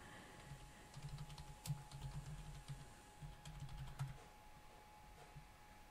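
Someone types on a computer keyboard in bursts of quick, fairly quiet clicks, with a short pause in the middle. A steady low hum runs underneath and no one speaks.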